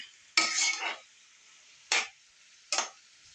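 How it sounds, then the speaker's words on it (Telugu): A ladle stirs bottle gourd chutney in a pan, giving three distinct scraping strokes: a longer one, then two short ones, close and clear against a quiet background. "ఇలా బాగా కలుపుకొని చెక్ చేసుకోవాలి"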